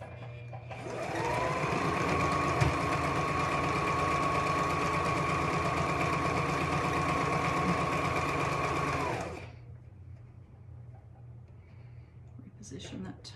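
A sewing machine stitches a quarter-inch seam on a child's hat, a steady loud whirring run of about eight seconds that stops abruptly, followed by quiet room tone and a faint click.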